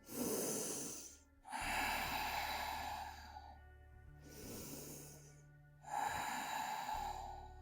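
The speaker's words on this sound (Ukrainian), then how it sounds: "І тепер глибокий вдих, трохи припіднімаємося і йдемо праворуч в діагональ" Slow, deep breaths during a relaxing yoga session on a mat, four long audible inhales and exhales in a calm rhythm, close to the microphone with no talking.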